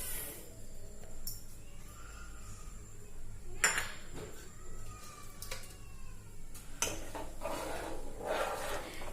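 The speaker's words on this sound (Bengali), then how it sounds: "এবার আমি তাল আর দুধ আর চিনিটাকে ভালো করে মিশিয়ে নিই" Palm fruit pulp, milk and sugar are stirred together in a pot, with a spoon scraping and clinking against the metal in irregular strokes, close and moderately loud.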